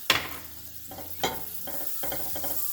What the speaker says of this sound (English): Let's add a little butter to this skillet